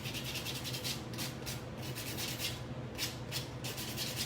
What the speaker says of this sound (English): also super great for buffing your natural nail bed without doing too much